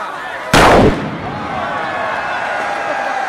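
A large "bomba diavola" firecracker goes off on New Year's in Rome with one loud, sharp bang. Echoing crowd noise and distant fireworks continue steadily afterward.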